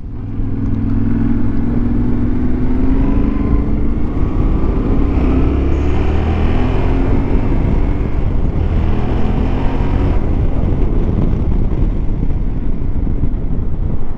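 A 2022 Yamaha Ténéré 700 motorcycle under way, its engine droning steadily and loud throughout with rising and falling pitch as it accelerates, mixed with wind rush over the microphone and no talk.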